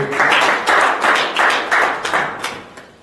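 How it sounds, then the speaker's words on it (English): An audience at a talk-show event gives a round of applause, heard as a string of separate clustered bursts of hand claps that rise and fade in roughly even pulses over a few seconds. "Please, round of applause to him"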